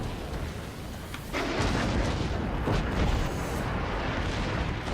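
Battleship armour-piercing shells fired in World of Warships, a deep rumbling boom that swells abruptly and keeps rolling loud for several seconds.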